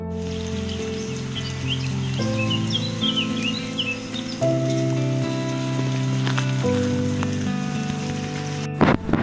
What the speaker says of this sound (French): Ça continue à pleuvoir